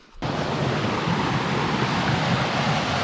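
Laurel Creek on the Appalachian Trail, swollen and muddy after heavy rain, rushes steadily, a dense continuous roar of running water that begins abruptly and holds at a constant close, loud level with no voices.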